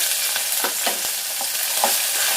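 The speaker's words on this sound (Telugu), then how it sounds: "ఇప్పుడు ఉల్లిపాయలు పచ్చిమిర్చి ఎల్లుల్లిపాయ కరివేపాకు అన్నీ వేసేసుకుందాము" Onions, green chillies, garlic and curry leaves fry in hot oil, giving a bright, continuous sizzle broken by several quick scrapes of a stirring spoon, close and without talk.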